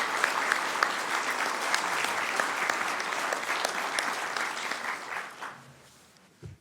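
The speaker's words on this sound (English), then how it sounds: "let's give them all a big round of applause as they present." A city council chamber audience gives a round of applause for an EMS team, steady sustained clapping with sharp individual claps that fades out toward the end.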